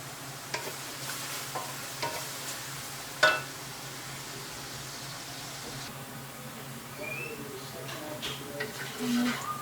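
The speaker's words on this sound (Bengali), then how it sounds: "পেঁয়াজটা অলমোস্ট ভাজা হয়ে গেছে।" Large onions fry in a pan for dal, a low, steady sizzle broken by scraping stirs and one sharp clink of the utensil.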